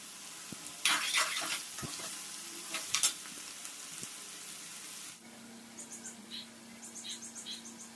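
Cubed potatoes frying in hot oil with cumin seeds, green chillies, cloves, cardamom and bay leaf in a home kitchen, a steady soft sizzle with stirring scrapes and clinks, moderately quiet, a few faint voice sounds.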